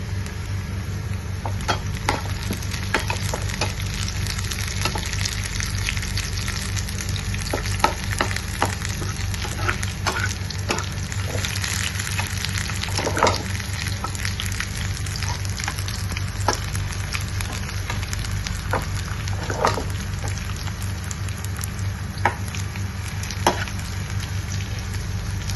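Onion, garlic and green chillies fry steadily in hot oil for a long stretch, a continuous close sizzle with scattered crackles and occasional clinks of a stirring spoon against the pan.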